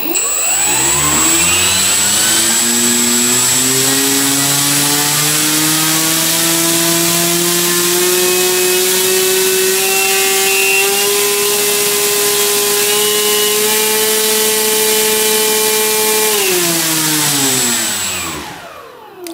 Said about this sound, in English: what I'm going to do now is to leave the motor turning